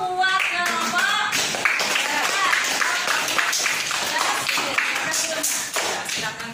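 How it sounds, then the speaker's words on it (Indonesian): Students in a classroom clap for a presenting group, sharp close handclaps at a brisk, uneven rhythm mixed with voices and a singing tone over them, fairly loud throughout. "tepuk tangan dulu buat kelompok"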